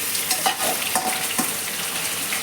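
Onions and green chillies frying in oil with bay leaf, cinnamon, cloves and cumin for a prawn curry, a loud continuous sizzle with a few soft stirring knocks, close and without speech.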